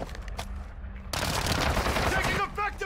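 Video game gunfire crackles in rapid, loud automatic bursts that swell and continue almost without pause, close and dense, while a voice speaks underneath.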